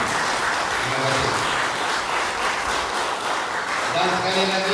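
Audience applause at a Malay political launch event in Ampang, a steady, dense wash of clapping throughout with voices murmuring underneath and some speech near the end.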